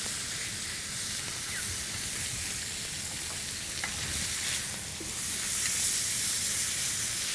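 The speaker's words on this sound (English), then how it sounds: "I'm going to sear it on the other side for about 2 more minutes." A bone-in ribeye cowboy chop sears in a cast iron pan, giving a steady, close, dense sizzle and hiss that runs the whole time and swells slightly toward the end, with no voices.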